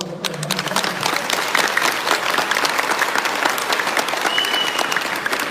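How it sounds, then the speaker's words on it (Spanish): A large audience at a religious talk applauds loudly, thick continuous clapping that swells in and stays steady and full for several seconds, alone without speech. "Aplausos."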